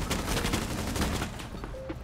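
SMG fire in a first-person shooter video game: dense, rapid bursts of automatic gunfire crackling continuously and loudly for about a second and a half, then thinning out into scattered shots and game noise.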